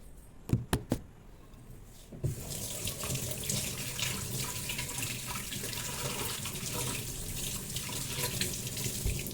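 Tap water runs steadily into a kitchen sink as mangoes are washed, following a few sharp knocks at the start, then a continuous close splashing stream with no talking.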